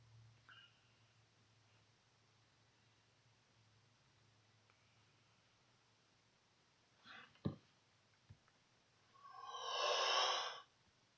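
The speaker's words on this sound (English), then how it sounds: "Sorry about the yawn." A person's yawn swells near the end, a long breathy exhale after a few small clicks and sniffs in an otherwise quiet room.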